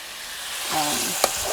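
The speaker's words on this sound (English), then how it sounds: "This heat is normally about an 8 or 9, because I wanted to have a nice sizzle" Seasoned potatoes fry in a pan on high heat, giving a steady close sizzle with a brief stirring scrape and a sharp clink near the end.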